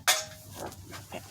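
A small carburetor choke part from a 212 engine is set down in a metal air filter pan, giving one sharp close metallic clink followed by a few softer, lighter scrapes and taps.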